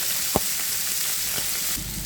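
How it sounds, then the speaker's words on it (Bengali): Fresh tengra fish lightly frying in oil, a constant close sizzle with a couple of soft stirring taps, brief and without talk. "যেহেতু একবারে টাটকা ট্যাঙা মাছ এটা একটু হালকা করে ভেজে নেব"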